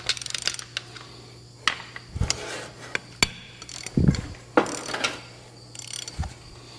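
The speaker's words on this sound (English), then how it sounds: "Ratchet's over here, Luke. So's the extension" Ratchet wrench clicking on bolts of a rusty Farmall Super H tractor, heard as scattered, fairly close bursts of metallic ratcheting and clunks under a steady low hum, with no talk.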